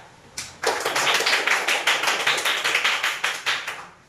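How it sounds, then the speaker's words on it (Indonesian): A classroom of primary pupils claps together for a classmate, a brisk, even run of hand claps starting after a short pause and carrying on loudly to the end. "kita kasih aplaus untuk Aditya"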